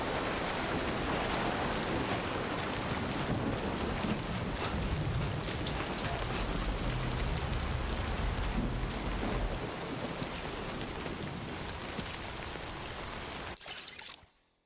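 Rain falling in the video game Death Stranding 2, a dense continuous hiss with a low rumbling undertone, moderately loud, cutting off abruptly at the end, no voices.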